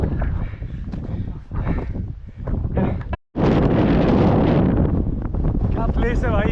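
Strong wind buffeting a rider on a Royal Enfield Himalayan 450 motorcycle, a loud roaring rush against the microphone with a brief cutout midway, then a fuller blast; a voice talks over it.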